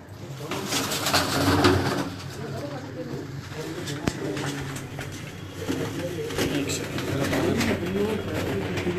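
Pigeons, including a pure dub-type pair, coo repeatedly at a village loft, their soft rolling calls close and overlapping against a noisy outdoor background.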